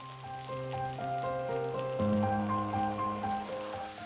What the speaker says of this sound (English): Saute for a couple more minutes.